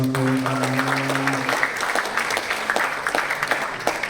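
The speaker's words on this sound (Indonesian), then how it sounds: "Tepuk tangan dong" Applause from an audience at a talk, a dense, steady wash of many hands clapping that takes over after a short steady hum and carries on to the end.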